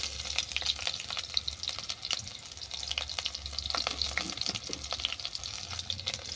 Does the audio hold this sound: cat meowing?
no